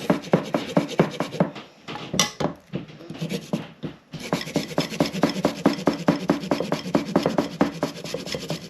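Fresh ginger is grated finely on a grater in a kitchen, producing a fast, steady run of close rasping strokes with a brief pause in the middle. No one speaks.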